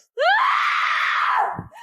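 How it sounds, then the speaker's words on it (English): A woman screams in a tense drama scene: one long, loud, close scream that rises in pitch and holds for over a second, then breaks off, with nothing else heard. "and I screamed"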